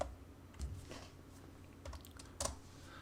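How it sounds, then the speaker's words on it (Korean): Keys on a computer keyboard are tapped in a few scattered, quiet clicks while AutoCAD commands are typed, with soft room hiss between the presses. "L을 입력하시고 엔터 또는 스페이스바를 입력하시고요"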